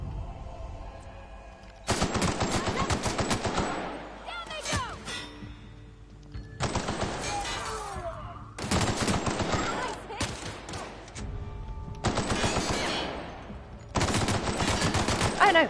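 Bursts of rapid automatic gunfire in The Outer Worlds video game, loud and close, arriving in several separate volleys with short pauses between them.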